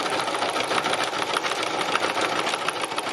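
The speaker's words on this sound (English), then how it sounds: "So I'm using my thread and my machine and this fabric, and I'm kind of colouring in." Sewing machine running steadily as it stitches thread onto fabric in a free-motion colouring-in style, a continuous close whirring hum with fine rapid needle chatter and no talk.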